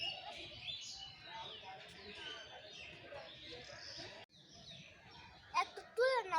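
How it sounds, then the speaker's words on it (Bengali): A pair of birds at Mirpur's Dhaka zoo chirp and tweet faintly beneath people and someone talking nearby, with a few sharper, clearer calls bursting out near the end. "দেখছো দুটো এক জোড়া পাখি"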